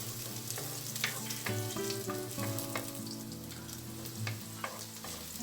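Garlic sizzles and crackles steadily in a pan along with carrots, with a bright constant frying hiss. Clinks and clatters of utensils against the pan come through intermittently over it.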